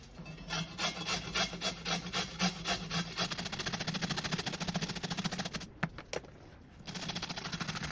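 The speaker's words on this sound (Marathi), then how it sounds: "हे बीट मी हे किसून घेते पूर्ण सगळं बीट" Rapid rhythmic rasping strokes of beetroot being grated by hand on a grater, close and steady, with a short pause near the end before the scraping resumes; no speech.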